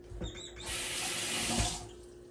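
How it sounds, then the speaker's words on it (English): Tap water runs steadily into a sink while food is rinsed, a close, even hiss lasting about a second after a few brief splashes. "I'm gonna rinse this one off as well."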